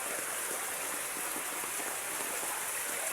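Steady heavy rain pours down outside a small shop during a flood, a dense continuous hiss with no gaps, loud and close throughout.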